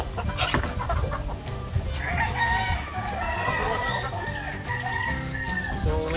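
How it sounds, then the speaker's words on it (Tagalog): White Leghorn chickens on a farm cluck steadily nearby, with a rooster crowing over a busy, noisy background of the flock; no one speaks. "So itong mga white leghorn natin"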